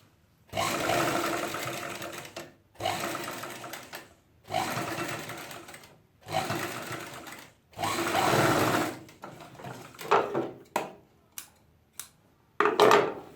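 A sewing machine stitches a Punjabi pajama in repeated runs of a few seconds each, rattling close and loud between short pauses, followed by quicker stop-start bursts and light clicks of handling the fabric.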